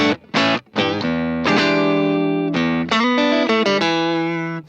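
Electric guitar through a Tsakalis Mothership tube overdrive into a 410 Super Reverb cab: a few short clipped notes, then sustained distorted chords ringing out loud and close, with no talk.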